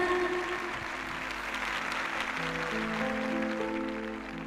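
Congregation at a church prayer service applauding loudly and steadily, a dense wash of clapping with musical tones sustained underneath throughout.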